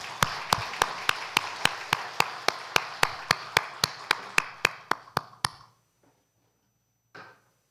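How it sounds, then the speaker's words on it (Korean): Rhythmic unison clapping from a church congregation at a Sunday worship service, about twenty sharp, evenly spaced claps in quick succession that end abruptly, followed by silence and a brief faint sound. "하나님께 영광의 박수 올려드립니다."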